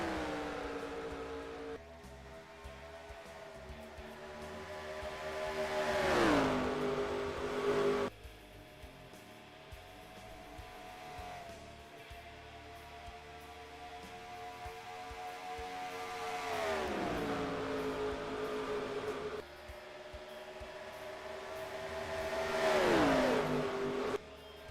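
Stock-car engines in NASCAR Racing 2003 at Charlotte drone steadily under green-flag racing, with three rising, swelling passes as cars roar close and sweep by, the pitch sliding down as each recedes.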